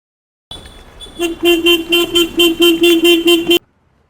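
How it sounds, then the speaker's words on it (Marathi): A car horn at a gate honks in a rapid run of about a dozen short, loud, close toots over three seconds, with faint engine noise underneath and no talking. "किती वेळ वाजवतोय मी हॉर्न?"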